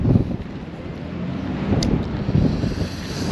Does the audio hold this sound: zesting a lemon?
no